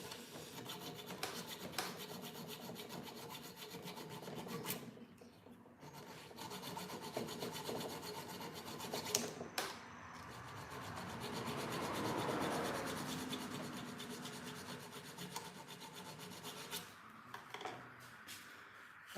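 Hand file rasping on a forged steel dagger blade, repeated close back-and-forth strokes in a steady rhythm with brief pauses and a few sharper scrapes.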